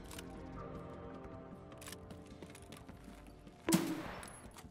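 Gunfire in the video game Escape From Tarkov, with a shotgun blast: a quiet stretch of faint scattered shots and clicks, then one loud, sharp burst near the end.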